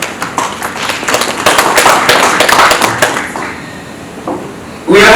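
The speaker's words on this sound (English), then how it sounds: "Let us clap for Base Titanium." An indoor conference audience claps for Base Titanium, a dense patter of hands that swells, then thins out and fades, followed by a brief clatter at the end.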